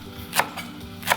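Tightly wrapped spring greens are sliced with a knife on a board, two crisp chopping strokes heard close up over a low kitchen hum.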